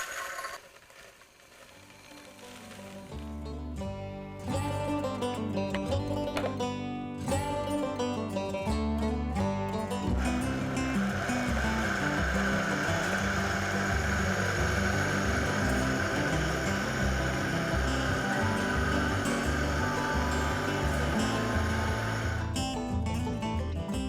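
A Vitamix blender mills rolled oats into flour, starting with a gritty rattle, then a loud, steady high-speed motor roar that runs for nearly twenty seconds before cutting off.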